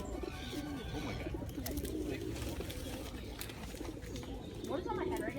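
A pigeon perched on a person's head outdoors in England gives soft cooing calls, partly masked by steady background noise and nearby chatter, with a couple of brief, clearer coos near the end.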